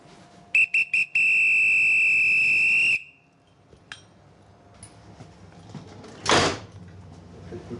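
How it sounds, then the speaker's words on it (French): A French SNCF train conductor blows a shrill whistle in three short blasts followed by one long sustained blast, then a door thuds and a clunk sounds in the quiet that follows. "Quel coup de sifflet, ça s'apprend aussi à l'école, ça?"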